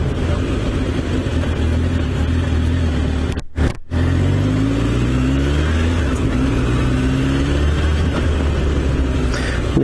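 A Honda CBR1000F motorcycle engine runs loud and close with a few rising revs, briefly cutting out for a moment before picking back up into a steady run.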